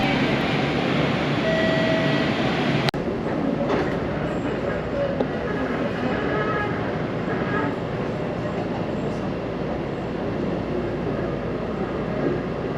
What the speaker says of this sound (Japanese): 次は2番乗り場から出発する、北千住行きの電車に乗車したいと思います。